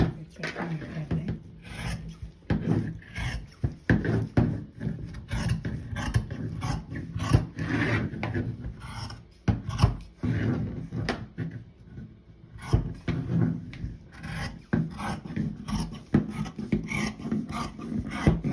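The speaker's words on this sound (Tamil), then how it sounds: "கட் பண்ணி காட்டுறேன்." Scissors cut through fabric for a dress with a circular skirt, giving close, irregular rasping snips and rustling of cloth in uneven bursts with brief pauses between strokes.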